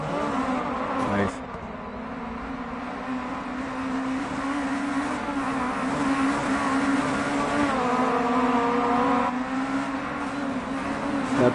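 A Renault rally car engine drones and revs on a replay in DiRT Rally, a steady mid-loud hum with gear shifts and a rising whine toward the end, heard beneath men chatting.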